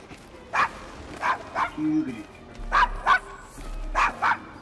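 Dog barking in the Assassin's Creed Syndicate video game, a series of sharp, fairly close barks in short bursts of one or two, with brief low whimpers between them and faint game ambience underneath.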